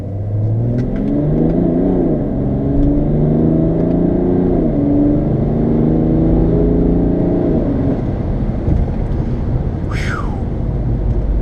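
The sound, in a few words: BMW 335d diesel accelerating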